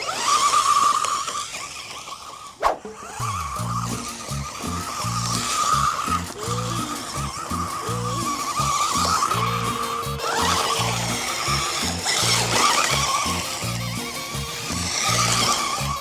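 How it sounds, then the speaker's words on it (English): A small RC truck's electric motor whines and revs steadily, its tires skidding and chattering over the ground, with one sharp knock near the start. "This is not a bad little short course truck for a kid"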